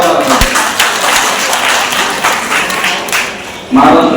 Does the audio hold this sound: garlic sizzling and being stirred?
no